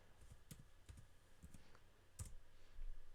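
Fingers tap out a password on a laptop keyboard, a handful of quiet, uneven key clicks close by in an otherwise hushed room.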